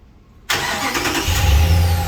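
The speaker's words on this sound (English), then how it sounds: "So go ahead and start the car" Ram 1500 with a 5.7 HEMI V8 cranks and catches abruptly after a brief silence, settling into a loud, close idle rumble that grows heavier.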